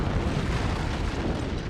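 Deep, rumbling blast from an antimatter charge detonating aboard a starship in the Halo video game, a dense low roar that fills the whole moment at steady loudness with no voices.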